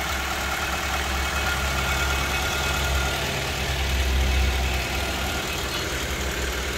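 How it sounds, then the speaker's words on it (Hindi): A 2009 Toyota Vitz with a 1300cc engine idles close by, giving a steady, even rumble with a faint mechanical tick that holds level throughout, with no voices over it. "ये देखते हैं इसका इंजन, के इंजन किस कंडीशन में है और साउंड तो काफ़ी ज़बरदस्त है"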